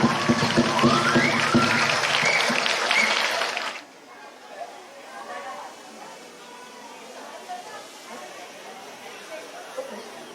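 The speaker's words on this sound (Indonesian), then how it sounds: "Beri tepuk tangan yang meriah" Crowd applause at a Malang city National Education Day ceremony, dense and loud for the first four seconds, then cut off abruptly and followed by quiet outdoor ambience.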